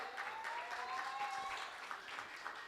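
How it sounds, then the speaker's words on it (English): Audience applause at a World Population Day commemoration, steady clapping throughout with a faint voice audible beneath it. "A round of applause, guys."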